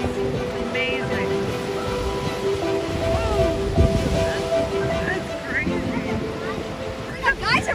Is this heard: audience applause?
no